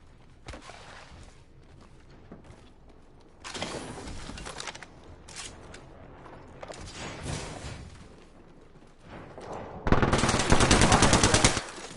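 Automatic weapon fire rattles in bursts in the battle royale shooter Apex Legends, with a short volley early, louder sustained bursts midway and a long loud rapid burst at the end.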